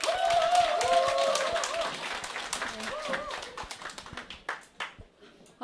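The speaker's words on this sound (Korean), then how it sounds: "여러분 큰 박수로 환영의 박수를 부탁드리겠습니다" An audience applauds to welcome a speaker at a business seminar, with clapping building under a voice at first and then thinning into scattered claps.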